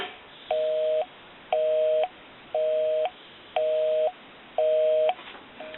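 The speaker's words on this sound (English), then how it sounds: "And it'll be busy." A busy signal on a GPO P&T 606 rotary dial desk telephone from Ireland: a steady tone pulses on and off at an even rhythm, about half a second each, over a hissy phone line.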